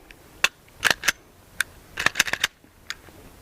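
Function check of a Beretta Nano 9mm pistol: sharp metallic clicks and clacks of trigger and slide, several close snaps in irregular clusters with short gaps, no talk.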